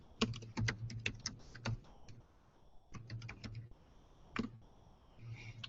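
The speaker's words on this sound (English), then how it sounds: "So I'm going to type in Mexican food or Mexican near Hotel Roanoke." Keys clatter on a computer keyboard as a Google search is typed, in quick bursts of clicks with short pauses, close and fairly quiet, with no talking.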